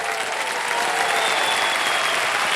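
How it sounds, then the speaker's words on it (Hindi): A studio audience on a televised quiz show breaks into loud, sustained applause, a thick, constant roar of clapping that holds steady throughout. "ताली बज जाए इनके लिए।"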